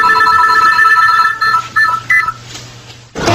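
A telephone rings with bright, repeated electronic trills, loud and on its own, breaking into short bursts before cutting off near the end.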